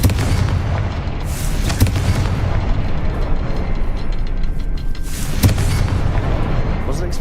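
Confringo fire-blast spell exploding in Hogwarts Legacy, a series of heavy booming bursts over a dense, rumbling game soundscape, with sharp peaks near the two-second and five-and-a-half-second marks.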